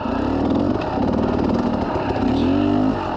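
A motorcycle ridden on trail in first gear without using the clutch: a steady, close engine drone with a throbbing low pulse and slight rises in revs, loud and continuous, no talk.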